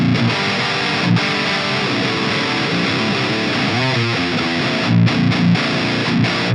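Distorted electric guitar through a Dual Baby transistor amp, a crunchy, vintage-leaning scooped tone playing dense continuous chords and riffs, loud and steady with brief pauses, no voices.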